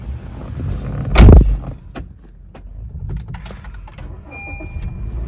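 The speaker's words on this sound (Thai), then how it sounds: "ขออนุญาตขึ้นมาบนรถแล้วลองสตาร์ทรถให้ดูกันเลย" A 2017 Honda City 1.5V sedan starts up with a short, loud burst of starter cranking that settles into a quieter, steady engine hum, with a few light clicks inside the cabin.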